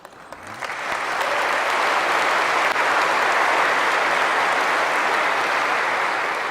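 A lecture audience breaks into sustained applause, building within the first second into a dense, steady wash of clapping that holds at full strength throughout with no voices over it.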